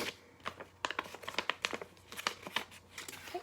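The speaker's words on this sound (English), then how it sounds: "you're going to take the top part and you're going to fold it over and fold the flaps" Paper flaps of a cube being folded over and tucked inside, giving soft, quiet crinkling and crumpling in irregular bursts, close up with no talk.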